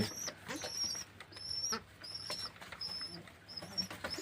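Pigeons, among them small young birds, scramble to eat the moment food is given, with repeated high chirps, soft coos and brief wing flaps close by over a steady background hum.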